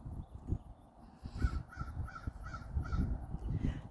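Repeated crow caws, about five evenly spaced calls at moderate distance, sound over a rumbling, noisy outdoor background with no talking.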